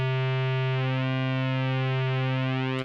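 Mela 2 virtual analog synth holding a steady buzzy tone with rich harmonics, its pitch gently wobbled by an LFO, sustained alone for about three seconds before cutting off.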